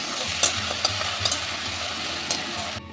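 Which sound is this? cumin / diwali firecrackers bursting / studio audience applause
cumin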